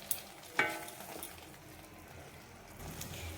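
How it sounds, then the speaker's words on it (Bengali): Spiced masala paste for dhaba-style dum aloo sizzles and is stirred in a pan, with a soft steady fry, a sharp scrape of the spoon near the start and quieter stirring clinks after it. "দিয়েও ভালো করে মশলাটা কষিয়ে নেব"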